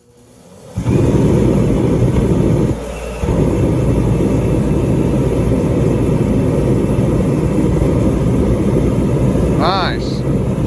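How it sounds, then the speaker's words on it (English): A kerosene heater starts up and burns with a loud, steady jet-like roar that kicks in abruptly after a second and continues evenly, with a brief dip and a faint high squeak near the end. "let's turn on the heater"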